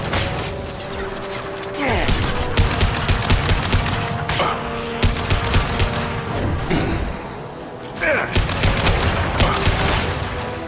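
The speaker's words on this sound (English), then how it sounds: "Firing concussive shot!" Concussive shot weapon fire in Mass Effect 2 on Omega, with repeated loud bursts of gunfire and impacts over a steady droning background, firing in clustered volleys separated by brief lulls.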